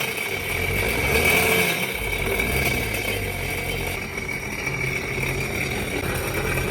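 A liquid-cooled 3-cylinder four-stroke jet ski engine, run for the first time in three years, runs steadily and loudly with a dense rushing roar and no clear rise in pitch, close up with no talking.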